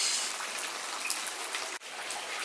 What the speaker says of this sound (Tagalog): Umuulan na naman sa San Diego ngayon.